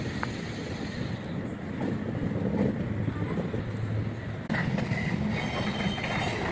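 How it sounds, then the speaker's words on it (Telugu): Low rumbling of the Lingampally–Vijayawada Intercity Express running on the tracks, a continuous moderate clatter and rattle with a brief louder jolt partway through, no talking. "ఇది ఏ ట్రైన్ నాకు కూడా తెలియదు."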